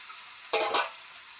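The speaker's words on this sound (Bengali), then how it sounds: "এখন মাংস কষানো চলছে" Meat stirred and sizzling in a pan after garlic and onion have been fried, in a village kitchen: one short burst of frying hiss and scraping, fairly close, with quiet before and after.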